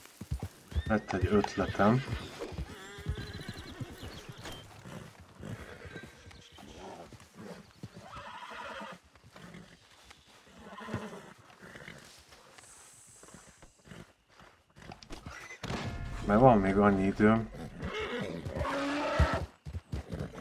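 A horse neighs and its hooves clip-clop in the Red Dead Redemption 2 video game, with someone talking in Hungarian over and between the whinnies and steps.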